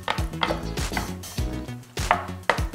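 A spoon stirs yogurt with chopped skin-on cucumbers in a bowl for cold Persian abdoogh khiar, knocking in a quick, uneven rhythm of close, solid taps against the bowl, with no talking.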